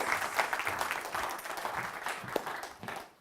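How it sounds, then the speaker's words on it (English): Live audience applause at the SPEAKup Challenge public-speaking event: steady, dense clapping from a crowd that holds for about three seconds before cutting off. "Give them a round of applause, everybody."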